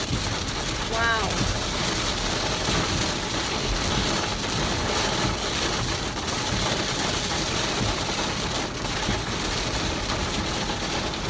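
Steady, dense rain roars throughout, a continuous broadband wash with no letup, close and loud.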